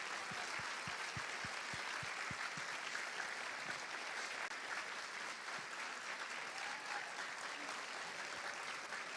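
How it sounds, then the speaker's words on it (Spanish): A book fair audience applauds at a panel discussion, with steady dense clapping throughout, fairly distant and moderately quiet. A few distinct claps stand out near the start. "así que pedimos un fuerte aplauso para Alberto Mayol Miranda."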